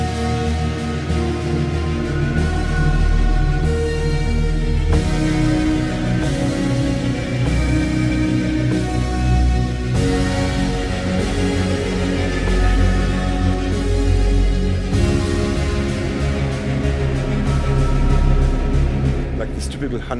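A Korg wavestate synthesizer plays a dark, dense horror film scoring texture, thick sustained layers with shifting tones and steady loudness, running alone for about twenty seconds with no talking.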